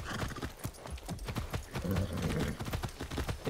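Horse in the Far Cry 6 video game, steady hoof clip-clops trotting at close range with a faint whinny mixed in, fairly quiet.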